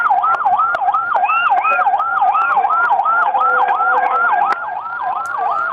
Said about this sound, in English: I can hear sirens blasting in the background there